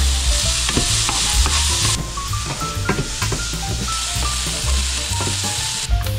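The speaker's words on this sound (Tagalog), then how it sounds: "Magigisa na tayo ng bawang at sibuyas." Garlic and onion sautéing in a large pan, a loud continuous sizzle with constant stirring scrapes and clinks of a spatula, close and without talk.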